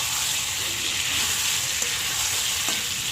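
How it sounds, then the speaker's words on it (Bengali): Fried pointed gourd stirred with spices in a kadai, a loud constant sizzle running throughout with a few faint scrapes of the spoon. "পটলের সঙ্গে মশলার সঙ্গে ভালো করে একটু নাড়ানাড়ি করে নিচ্ছি আমি"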